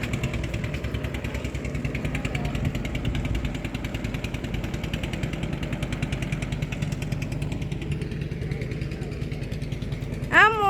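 A motor boat engine chugs steadily on a river with a continuous, throbbing, mid-level drone, ending in a brief sharp sound.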